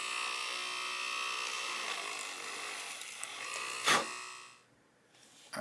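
Power drill boring holes through the leather of a handmade knife sheath, a steady high whine running several seconds before a brief burst and abrupt stop, close and alone.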